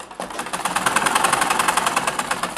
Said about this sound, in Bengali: এই যে এই এখন এখান থেকে এই পর্যন্ত সেলাই করে দিব, শুধু এই পাটটা আটকে দিব।